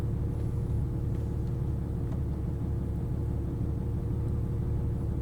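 The engine of a Porsche 911 Turbo 997 idles: a close, continuous low rumble with a fine, even pulse, steady and unchanging throughout with no talk over it.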